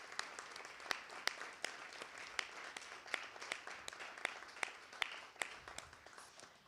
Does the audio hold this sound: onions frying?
no